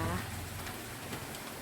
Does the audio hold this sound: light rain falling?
yes